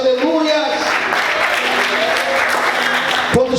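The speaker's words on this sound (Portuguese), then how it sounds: "Você pode aplaudir o Senhor bem forte." A church congregation claps together loudly and steadily, close and dense, with voices calling out beneath the applause.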